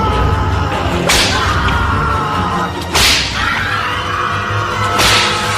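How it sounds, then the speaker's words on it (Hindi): Three sharp whip cracks ring out about two seconds apart, each a sudden bright snap over a dense, rumbling background. "सेल के अंदर एक चाबुक चलने की आवाज हुई"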